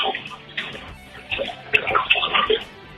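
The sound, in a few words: water sloshing in a bathtub heard over phone call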